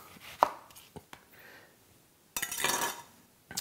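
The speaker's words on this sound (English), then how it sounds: "Cut the top off your onion." A kitchen knife chops through the top of an onion on a cutting board: a sharp single chop, a couple of lighter taps, then a brief rough scraping burst, close and fairly quiet with no talking.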